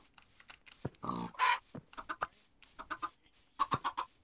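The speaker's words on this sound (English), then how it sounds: "Yo, there are so many baby chickens." Baby chickens in the Minecraft video game cluck and chirp in a busy run of short, bright calls, several close together, with a louder burst in the middle and more scattered peeps toward the end.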